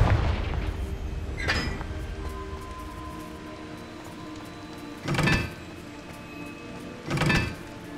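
Confringo fire spell blasts in Hogwarts Legacy, three sharp bursts spaced a few seconds apart over a low ambient game rumble, the middle and last ones loudest.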